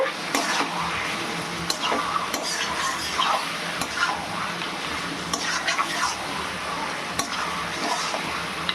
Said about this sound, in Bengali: ভালো করে এবার কষাতে হবে